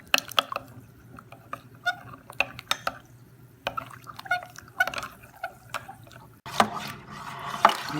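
Warm water splashes and drips into a fermentation bucket while cherry melomel mead is being prepared with bentonite and honey: irregular close splashes and trickles, with a louder pour near the end and no talk.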